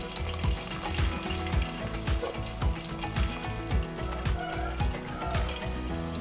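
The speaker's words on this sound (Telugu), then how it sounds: "ఇప్పుడు మనం ముందుగా కోసుకున్న పచ్చిమిరకాయలు వేసుకుందాం. తర్వాత కొంచెం కోసిన ఉల్లిపాయలు వేసుకోవాలి." Green chillies and chopped onions sizzling in hot oil for a village-style fish curry, a steady close frying hiss with regular rhythmic knocks of stirring against the pan and no talking.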